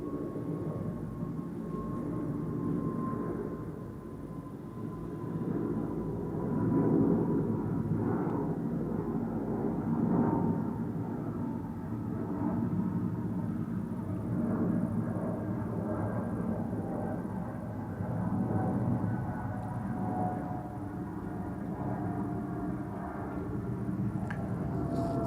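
A Chinese airline's Boeing 777 moves at Amsterdam Schiphol with a continuous low jet rumble and faint whine, moderately loud and steady, rising and falling gently over time.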